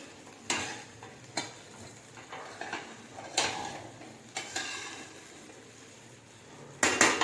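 Bottle gourd muthiya ingredients mixed in a bowl, with sharp irregular clinks and scrapes of a utensil against the bowl, close and fairly loud, spaced by quieter stirring and a quick cluster of knocks at the end.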